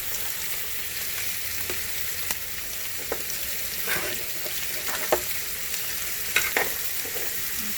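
Short ribs browning in a hot pan, a steady close sizzle and frying hiss with occasional scrapes and clinks as the meat is moved, no voices.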